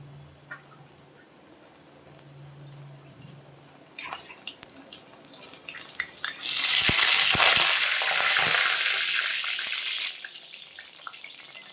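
Pumpkin slices coated in gram flour batter go into hot oil one at a time, a quiet pan with clinks building into a loud, steady bubbling sizzle that slowly eases off.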